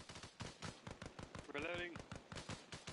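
Sustained rifle and machine gun fire in the military game Arma Reforger, a steady rapid string of close bursting shots from start to end, with a voice briefly calling out midway.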